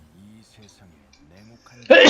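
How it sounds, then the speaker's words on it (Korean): Someone speaks softly, then lets out a single loud, abrupt sneeze close to the microphone at the very end. "아이고 재채기 죄송합니다"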